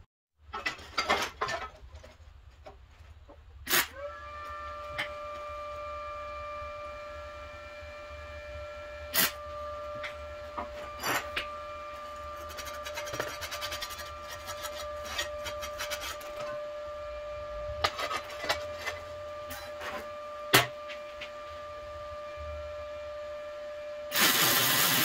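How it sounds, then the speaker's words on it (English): A regular MIG gun on an ARCCAPTAIN MIG 200 welder laying a bead on aluminum: a steady electric hum with crackling and popping bursts through a long continuous weld, close and fairly loud. "I just welded that aluminum without a spool gun through that regular gun."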